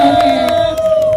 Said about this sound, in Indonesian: tepuk lagi dong untuk Arta